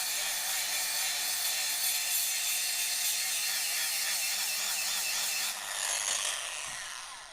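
A radial bristle brush runs at low speed with light pressure against a part, giving a steady, close, bright scraping whir that stays level for several seconds before easing off near the end.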